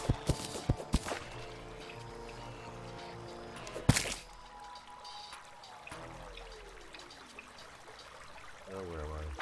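Water pours and trickles in the Terraria video game, a steady liquid rush under game music and sharp effect sounds, with a person talking now and then over it.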